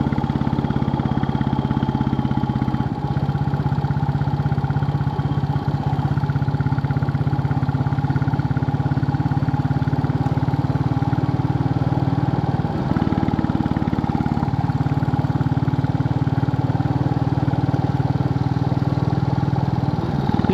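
Royal Enfield Bullet 350 single-cylinder motorcycle riding on a sunny day, a steady loud engine drone with a low thumping hum that shifts slightly in pitch as the throttle changes, continuous with no talk.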